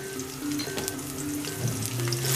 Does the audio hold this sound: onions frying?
yes